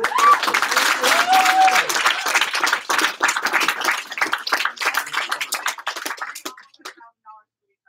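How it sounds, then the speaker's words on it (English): An office team bursts into a round of applause and clapping for a top sales performer, loud and dense at first, then thinning into scattered claps before stopping near the end. "We can give a round of applause."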